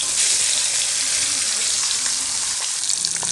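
Fish frying in hot oil in a wok, a loud dense sizzle hissing steadily and close for a few seconds with no talking.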